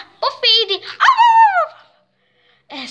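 A dog close by gives a few short, high yelping barks that slide into a whiny tone, followed by a brief pause and another yip.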